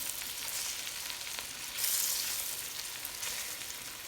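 Oxtails browning in a hot pan give a steady, close sizzle and crackle that runs unbroken throughout, getting a little louder midway, with no talking.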